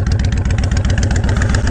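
A Honda Fury motorcycle fitted with a Freedom Performance exhaust idles close by, a loud, deep, loping thump repeating in an even rhythm, with no talking.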